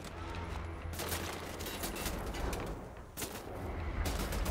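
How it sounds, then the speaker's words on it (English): Rapid gunfire in the first-person shooter Wolfenstein: The New Order, a dense sustained volley with sharp bursts around the start and again after three seconds, loud and close with no talk. "Just gonna walk up and shoot you in the face."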